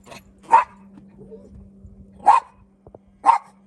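A dog barks three times outdoors on a homestead, close and loud, with gaps of a second or more between barks and a steady low hum beneath.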